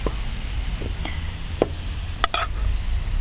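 Meat with spring onions fries in a pan in Trikala, Greece, giving a steady close sizzle broken by several sharp clinks and scrapes of a utensil, with no talk.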